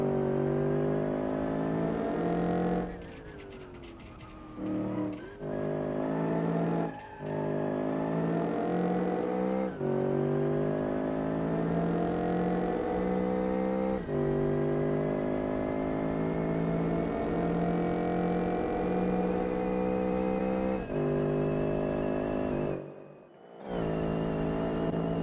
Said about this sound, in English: This is a sequential gearbox whining.